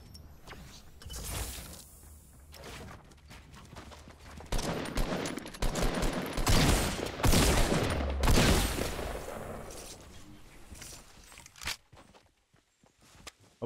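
An enemy fires on the player in Fortnite Battle Royale, with rapid bursts of gunshots growing loud and dense in the middle, along with footsteps and mechanical clatter, before fading out.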